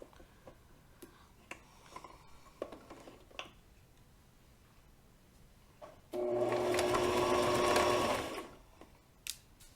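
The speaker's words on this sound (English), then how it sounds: "Make sure to back stitch at the beginning and at the end of your stitches." A sewing machine runs a seam on a purse, starting after quiet handling clicks and humming in a steady close whir with needle ticking for about two seconds before winding down.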